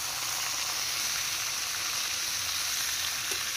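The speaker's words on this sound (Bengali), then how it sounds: "পেঁয়াজটা একটু ভাজা ভাজা হয়ে গেলে এখানে চিকেন অ্যাড করে দিচ্ছে" Chicken frying with onions in hot oil, a dense, even sizzle heard up close and unbroken throughout, with no speech.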